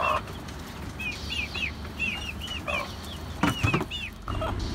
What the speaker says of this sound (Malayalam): ഇതാണ് മുട്ട അടവെച്ച് കോഴിക്കുഞ്ഞെല്ലാം വിരിഞ്ഞിട്ടുണ്ട്